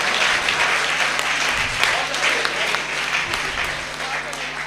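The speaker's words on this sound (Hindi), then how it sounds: "खुलकर तालियां बजा सकते हैं आप लोग।" An audience at a Hindi comedy poetry show claps in a full, sustained wave of applause, loud and continuous with faint murmurs underneath.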